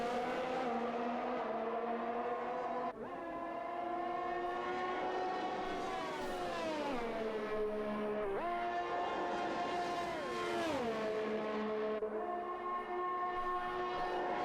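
Engines of race cars lapping the Belgian circuit through Blanchimont in a racing sim series, a loud steady whine shifting pitch up and down as they rev and gear-change, with no talk.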